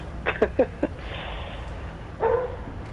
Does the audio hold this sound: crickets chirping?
no